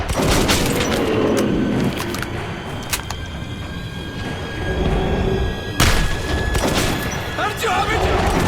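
Shotgun blasts and other combat noise ring out in the video game Metro 2033, heavy booms at irregular intervals over continuous battle clamor, with voices shouting in between.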